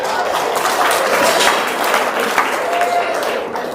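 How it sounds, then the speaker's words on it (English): An indoor crowd at a local livestock show claps for young peewee showmen, a steady wash of applause that swells and holds, with a faint voice briefly audible beneath it. "let's give these Pee-wee showmen a nice round of applause."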